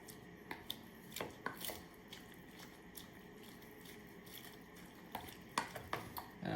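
Ceviche ingredients being mixed in a bowl: irregular clinks and taps of utensil against the bowl over a soft wet churn, fairly quiet and close, no one talking.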